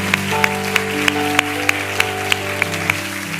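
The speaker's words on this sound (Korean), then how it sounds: "하나님 옆에 다시 한번 감사와 찬양과 영광의 박수" A church congregation at a Sunday worship service claps in a steady, evenly spaced rhythm, crisp sharp claps about three per second over sustained organ-like chords.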